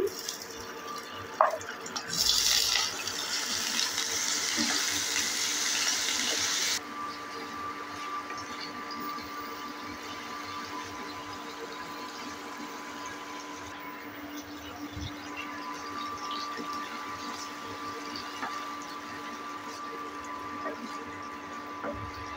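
Paneer pieces going into hot oil in a pan for matar paneer, a loud bright sizzle with a brief burst of spatter that quiets after several seconds to a steady, softer frying hiss.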